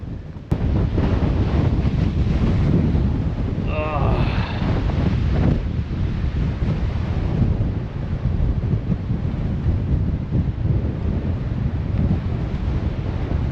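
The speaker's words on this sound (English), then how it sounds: "And it's very windy." Strong wind buffets the microphone on a beach by the sea in northern Germany, a loud continuous roar with surf rumbling beneath and a brief voice partway through.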